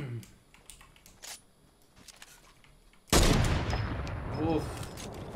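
Gunfire in Fortnite: scattered light clicks and taps give way to a sudden loud blast that rolls into a sustained dense barrage of shots, with a voice talking underneath.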